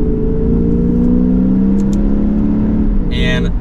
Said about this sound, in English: listen to that naturally aspirated V8